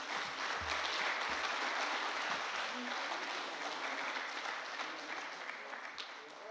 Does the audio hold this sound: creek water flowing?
no